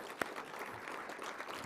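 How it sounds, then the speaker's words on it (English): Audience at a valedictory ceremony of a health summit applauding the chief guest, a dense, steady wash of clapping heard from some distance, fairly faint and without a voice over it. "A big round of applause for the Chief Guest."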